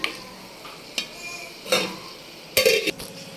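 Mutton pieces are stirred in hot oil in a pan for a gongura curry, with faint sizzling behind intermittent scraping strokes of a utensil against the pan, the loudest stroke near the end.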